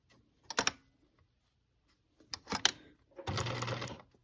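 A sewing machine stitching small curves on a quilt, running in short bursts: two brief clusters of stitches, a pause, then a longer steady run.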